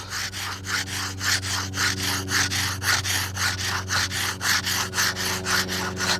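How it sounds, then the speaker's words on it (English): Prehistoric-style knife material is ground down on a local stone in quick, steady back-and-forth strokes, roughly three per second, a loud, close, raspy scraping rhythm with no talking. "I just place it on top and I just grind the material down, just like this."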